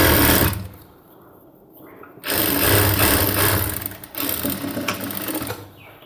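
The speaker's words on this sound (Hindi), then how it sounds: "ऐसे किनारे पे सिलाई लगाएंगे" A sewing machine runs in bursts, stitching along the edge of cargo half pants: a short run, a pause, then longer close, steady whirring passes with a brief break between.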